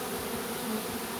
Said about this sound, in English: I know, covered in bees, but they're all crawling on the inside of my veil now.